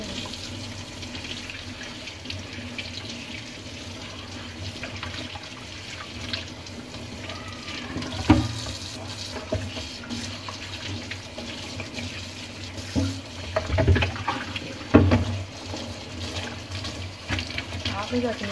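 A kitchen tap runs into a sink while a whole duck, already rubbed with salt, is rinsed under it, a continuous splashing stream with occasional knocks and thuds of the bird being handled, fairly close.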